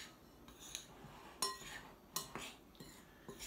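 Dry ingredients being mixed in a bowl, including a measured quarter teaspoon of salt, give faint scraping and stirring with a few light clinks of utensil against the bowl, scattered and quiet, with no talking.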